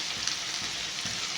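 Chicken masala sautéing in a pan for chicken siyanga, a dense steady sizzle like light rain, close and even, with faint stirring pulses and no talking.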